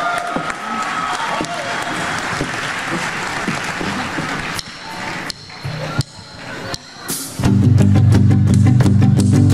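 A live audience at the CCNB sur scène 2024 stage show claps and cheers, loud dense applause with scattered whoops, thinning briefly into sparse claps before swelling again as music starts beneath it.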